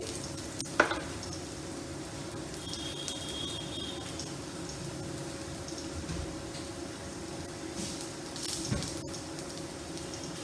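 Whole cumin seeds, about half a teaspoon, tempered in hot oil for a potato and pointed gourd dish, give a steady soft sizzle with a couple of light clinks of utensils against the pan.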